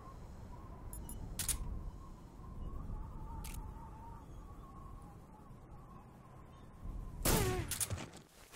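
Gunshots in Metal Gear Solid 3, heard as a few sharp, brief cracks spaced over several seconds against a low ambient game background, the last one followed by a ringing tail.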